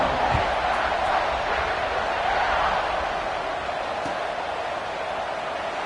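Large football stadium crowd roars steadily at kickoff, a dense sustained wash of cheering and shouting that stays loud throughout.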